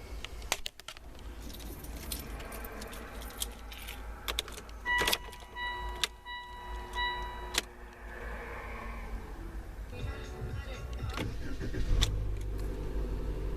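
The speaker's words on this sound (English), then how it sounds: "Alright, so the car is running" A low idling Mitsubishi Outlander engine hums steadily under jangling keys and scattered clicks, with the rumble swelling slightly near the end, after a catalytic converter replacement.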